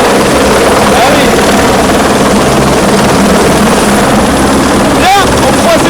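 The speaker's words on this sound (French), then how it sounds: "On récupère notre petit hélicoptère parce que maintenant on devient des habitués" A helicopter carrying a crew at a WRC rally event, with Toyota rally cars involved, drones loudly and continuously from close by, its rotor roar filling the whole clip while people talk over it.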